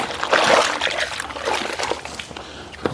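Water sloshing and splashing from a bucket during a car wash, a close, uneven wash of trickles and spatters that swells early and then settles into lighter dribbling.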